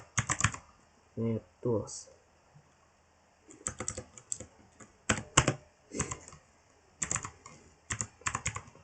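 Password and an apt install command typed on a computer keyboard, bursts of quick close key clicks separated by pauses, with a person speaking briefly in between.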